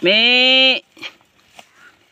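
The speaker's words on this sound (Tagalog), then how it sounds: "Tingnan natin ang ating kambing" A single loud, close goat bleat on a farm lasts under a second, followed by a few faint, quieter rustles and bits of noise.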